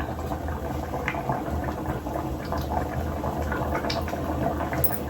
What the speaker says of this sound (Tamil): குழம்பு எப்படி சும்மா தக தக தக தக தகன்னு கொதிக்குது பாருங்க